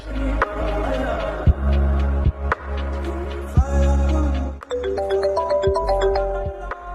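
A mobile phone ringtone plays loudly and repeatedly during a call, its electronic melody pulsing in bursts close by, with no voices over it.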